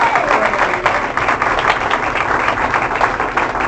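A church congregation claps continuously in a dense, even wash of applause, with faint voices mixed in and occasional sharper claps standing out.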